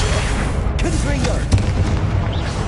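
Blasting-curse explosions from Hogwarts Legacy combat boom continuously in dense, heavy bursts, with a voice faintly audible amid the rumbling fight noise.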